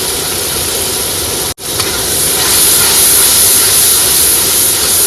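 Salt, turmeric and cumin powder fry in a pan while fish is cooked on a boat in the Sundarbans. A loud, steady hiss and sizzle fills the clip, cut off briefly near the start before resuming.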